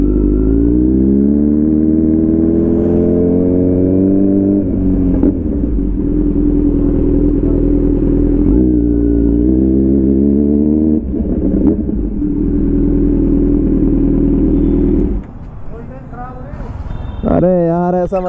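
Kawasaki Z900 BS6 motorcycle pulling into a petrol pump, its engine a loud, steady low rumble with rising and falling throttle, then dropping off briefly before a sharp rev near the end.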